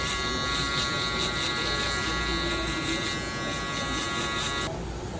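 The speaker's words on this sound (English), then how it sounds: "follow it up with the Metal Instinct shaver one more time, just to bald out all that stubble down to the skin" A Metal Instinct electric shaver buzzes steadily as it takes facial stubble down to the skin during a low fade haircut, a close, continuous whirring hum that holds level throughout with no talk.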